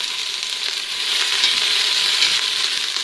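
Small onions fry in a pan beside pork shank that has simmered about two hours, giving a loud, continuous sizzle that swells slightly midway, with no talking.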